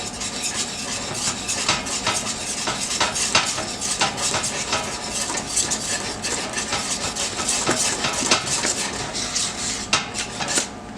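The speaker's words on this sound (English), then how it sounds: "I'm just gonna stir that in." A spoon scrapes steadily around a pot of cheesy grits for Cajun shrimp and grits, with a continuous close rubbing and clinking of utensil against metal and no talking.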